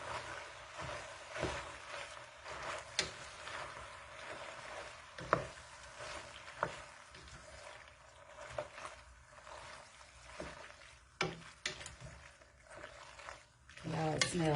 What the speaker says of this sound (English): stir all of that up